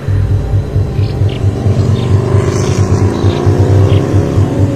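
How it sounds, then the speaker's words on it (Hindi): A motorbike overtakes on a road, its engine giving a loud, steady droning hum with a pulsing low throb that holds without pause throughout. "तभी वही बाइक मुझे ओवरटेक करके आगे जाने लगी"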